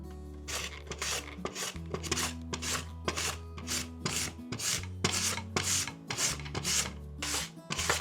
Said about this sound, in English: Start by peeling and shredding 2 medium potatoes.